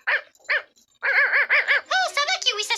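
Kiwi the dog barks in quick, high yipping bursts, two short barks then a rapid excited run of yaps, close and loud.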